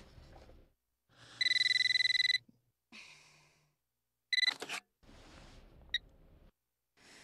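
A telephone in the video game Eternal Darkness: Sanity's Requiem rings in two electronic bursts separated by a pause, with quiet ambient sounds around them and no talking.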